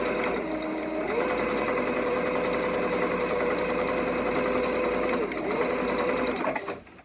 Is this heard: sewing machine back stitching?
yes